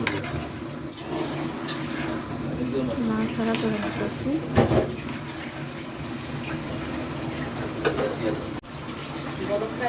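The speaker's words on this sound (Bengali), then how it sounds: "মাংসটা দিয়া ভালোভাবে নাড়াচাড়া করে নিতেছি" Meat is added to a pot and stirred while cooking biryani, producing a steady sizzling, bubbling wash with occasional scrapes and knocks throughout, and a voice talks over it.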